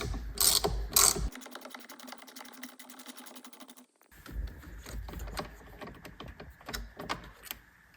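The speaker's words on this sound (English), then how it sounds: "Now we're going to switch to a ratchet because we're going to loosen this bolt." A ratchet loosens a bolt on a Porsche 911 (991) steering wheel, making rapid, close metallic clicking in bursts, with a brief lull midway before more uneven ticking.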